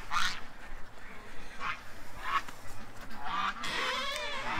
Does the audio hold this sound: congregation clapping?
no